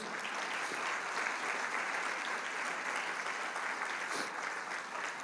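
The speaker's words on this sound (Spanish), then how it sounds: "Dale un fuerte aplauso al Señor Jesús." A large crowd at a church service claps steadily and enthusiastically, a dense continuous wash of applause filling the room.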